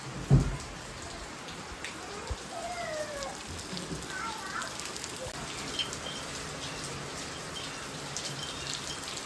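Heavy rain pours down steadily at a farmstead, a moderate wash of patter with a brief louder knock near the start.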